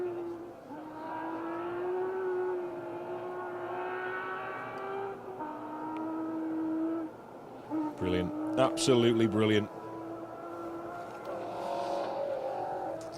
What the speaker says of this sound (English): It's the Stratos going up the valley.